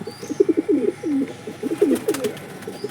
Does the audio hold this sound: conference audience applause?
no